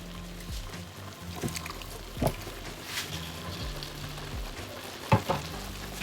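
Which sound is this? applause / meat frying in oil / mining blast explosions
meat frying in oil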